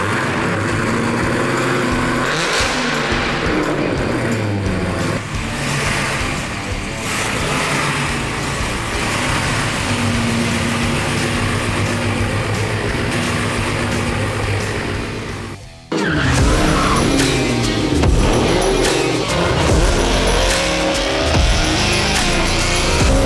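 A custom widebody Dodge Challenger drives off, its engine a loud continuous rumble that rises in revs, dips briefly near the end, then surges back, heard close with no talk.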